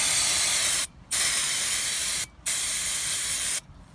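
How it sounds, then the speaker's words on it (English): Brake cleaner sprays in three long, loud hissing bursts with short pauses between them, aimed at the drum brakes of a 2002 Jeep Liberty during wheel cylinder work. "I'm running out of brake cleaner, man."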